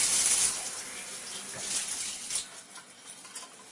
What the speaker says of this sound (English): At this point, the cleaning cartridge can simply be rinsed.